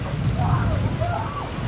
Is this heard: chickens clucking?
no